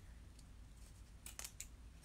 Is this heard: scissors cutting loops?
yes